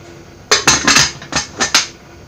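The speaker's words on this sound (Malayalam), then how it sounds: "കുക്കർ അടുപ്പത്ത് വെക്കാം." A metal pressure cooker holding Kerala breadfruit curry is set down on a stove, giving a quick run of six or seven loud, close metallic clanks and knocks within about a second and a half, with no talk.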